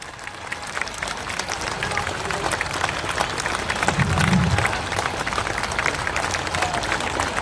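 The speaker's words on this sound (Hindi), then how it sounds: "ताली, जोर से ताली बजाइए।" A large crowd at a Jan Suraaj political gathering applauds loudly in a dense, sustained wash of clapping that swells briefly midway and then carries on steadily.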